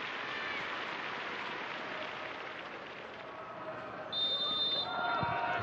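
Steady, broad wash of stadium crowd applause at a Leicester City versus Arsenal women's football match as players of both sides take the knee, continuous and even, with a whistle-like tone entering near the end.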